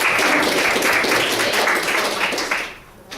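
Applause from a classroom group of externship students, dense steady clapping from many hands, fairly close and loud, thinning out toward the end.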